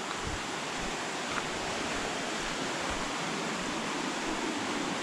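A river rushes through a narrow cliff gorge, giving a steady, dense wash of flowing water that holds at an even level throughout with no voices.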